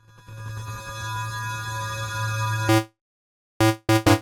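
A soft synthesizer note played gently with a Wonderlust reverb setting, its size control modulated by a tracker, sustains as a steady tone for nearly three seconds, then cuts off, followed by two shorter repeated bursts.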